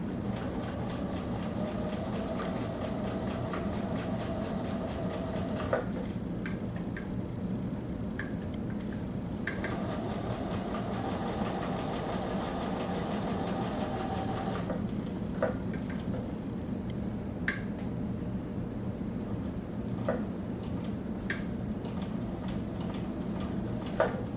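A sewing machine runs steadily while stitching a pocket onto the body of an atikłuq, a fabric parka. The motor hum is continuous and near, with brief pauses and small clicks as the needle and presser foot are repositioned.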